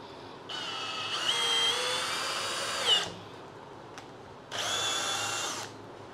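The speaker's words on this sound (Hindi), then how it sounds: "अब हम इसके अंदर स्क्रू कसेंगे तीन इंची का है" A Ballorex KS-21VD brushless cordless drill with its torque set to 12 drives a 3-inch screw into pine wood. Its high motor whine runs in a long burst, stops with a brief click, then spins up again for a second shorter burst.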